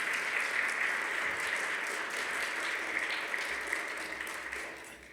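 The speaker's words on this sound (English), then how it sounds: "Yes, you can applaud for them." An audience at a school Thanksgiving chapel applauds eighth grade students, with steady, dense clapping from many hands that holds through and tapers slightly at the end.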